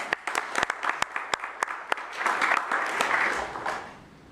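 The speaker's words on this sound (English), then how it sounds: "You might give her a round of applause." A small audience at a city commission meeting claps for Stephanie Madden, starting with a few sharp, separate claps that grow into a brief round of applause and then die away.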